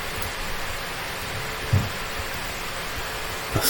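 Game rain from an Unreal Engine 4 horror project hisses as a steady, even wash of noise, with a couple of soft low thumps and no voices.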